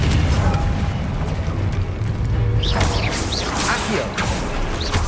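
A Confringo fire-blast spell in Hogwarts Legacy bursts amid combat, a loud booming explosion layered over steady game noise, followed by whooshing magical effects and shouts as a voice calls out spell names.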